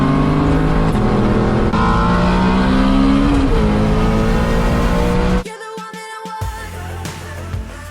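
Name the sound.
Shelby GT350 car accelerating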